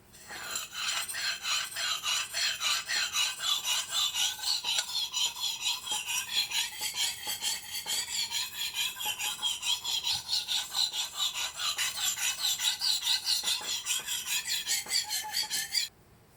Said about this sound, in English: this sharpening stone is much harder than the other stone, and the material is ceramic